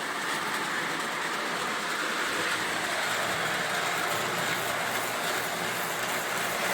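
Lionel Docksider 8700 Rock Island 0-4-0 switcher model train running in a pulling test, giving a steady, close, continuous mechanical whir and rattle with no break.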